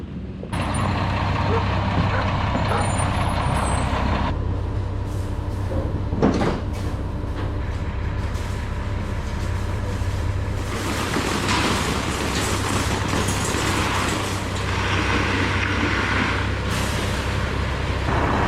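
A concrete truck working at a floor pour for a shipping container barn, its engine a loud steady rumble with machinery clatter and faint beeps running the whole time.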